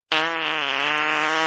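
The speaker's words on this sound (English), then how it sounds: "Computer, I want to hear an angry fart." Computer-played angry fart sound effect: one loud, sustained, buzzy blast lasting just over a second, alone.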